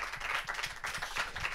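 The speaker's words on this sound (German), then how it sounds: "Applaus bitte." Applause from an audience at a film award ceremony, a short burst of faint, steady clapping with no voices over it.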